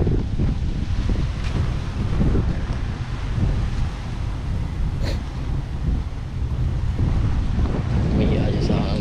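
Strong wind buffets the microphone in a constant low roar by the sea in the Philippines, with a faint wash of surf underneath.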